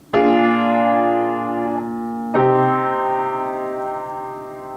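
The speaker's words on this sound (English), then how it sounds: "resolve to the submediant in what is called a deceptive resolution" A dominant seventh chord followed by a chord sliding to an unexpected deceptive resolution on the submediant, each sustained, ringing out and slowly decaying.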